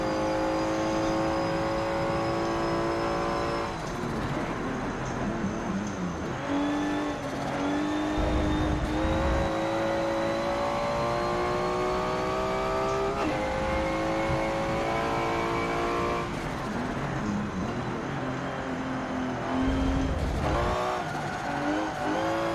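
An F1 car in the video game Forza 7 revs hard, its engine pitch climbing and dropping through repeated shifts for the whole stretch. The whine is loud and close with brief dips, and no one speaks.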